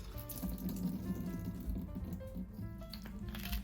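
Water running and splashing as soaked sliced onion is drained in a kitchen sink, a steady close wash of trickling and sloshing with faint squishing, no talking.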